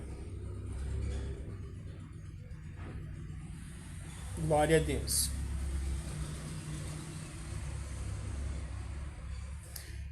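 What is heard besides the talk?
truck driving away outside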